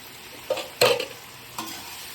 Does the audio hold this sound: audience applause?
no